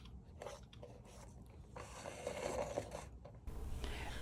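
A rotary cutter runs along a quilting ruler to trim two sides of a quilt block, giving soft, close scraping strokes with short pauses between them, quiet and with no voices.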